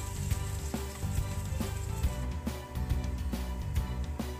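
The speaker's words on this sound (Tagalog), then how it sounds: "Igigisa na natin yung ating garlic." Garlic sautéing in a hot pan for a stir-fry with canned sardines and black beans, a quiet steady sizzle under soft clinks and scraping of a utensil at close range.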